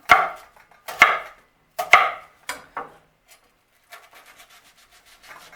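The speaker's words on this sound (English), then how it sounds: "One slice, two slice, watch your fingers, quick chop." A kitchen knife chops a peeled onion on a cutting board for holiday bread stuffing, giving a handful of sharp, close chops at an uneven pace, then a run of quicker, lighter taps. No one speaks.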